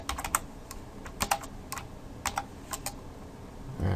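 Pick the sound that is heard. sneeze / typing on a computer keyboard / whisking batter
typing on a computer keyboard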